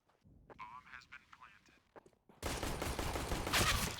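Rapid gunfire bursts out loud in Counter-Strike: Global Offensive and continues as a dense volley after a quieter stretch of faint game sounds and clicks.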